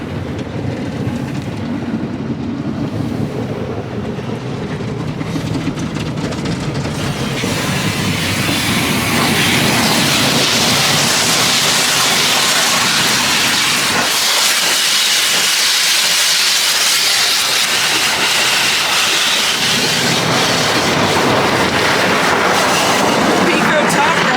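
Inside an Innova car wash tunnel at Green Gorilla Car Wash, a rocker brush churns and rinsing spray hisses loudly, a dense continuous wash of rushing water that swells and shifts, heard from inside the car.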